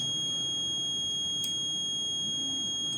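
A fire alarm buzzer on an ESP32 home security system, triggered by a lighter flame, sounds as a steady, piercing high electronic tone held throughout over a low background hum.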